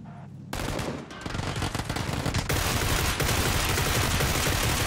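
A Groza rifle in PUBG fires sustained, loud full-auto bursts of rapid, dense gunfire that fill most of the clip after a brief quiet start.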